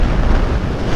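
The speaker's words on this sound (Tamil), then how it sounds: "அதில் காற்று வந்துட்டு ரொம்ப வீசுங்க" Strong wind gusting across the Ukkadam flyover, roaring as a steady broadband rush of buffeting against the microphone, loud and continuous with no talk.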